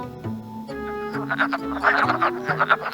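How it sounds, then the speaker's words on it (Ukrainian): A frog croaking in a children's listening exercise for the folk tale "Rukavychka" (The Mitten): repeated croaks and rattling calls over a steady tonal backing, moderately loud, with no talking. "Жабка. Як вона квакає? Ква, ква, ква."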